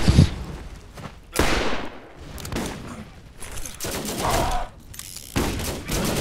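Gunfire and grenade blasts from the video game Borderlands crackle in dense, repeated bursts, loud and close, with short gaps between volleys and no speech over them.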